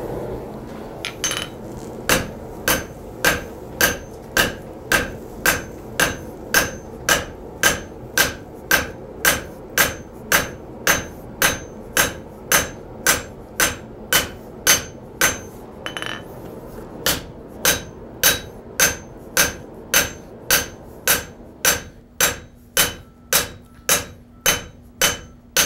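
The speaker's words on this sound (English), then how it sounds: "Still going to hammer on this for just a little while longer." A blacksmith hammers hot metal on an anvil, a long run of loud ringing strikes in a steady, even rhythm with brief pauses, some blows doubled by anvil bounce.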